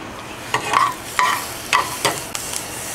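Green pepper sizzling steadily in a pan while a utensil stirs it in several distinct scraping strokes, close and fairly loud with a constant frying hiss underneath and no talking.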